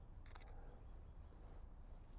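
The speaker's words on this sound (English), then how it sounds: "When you breathe out, press the shutter button and squeeze it very gently." A single faint mechanical click of a camera shutter being pressed, brief and quiet, over a soft background hiss.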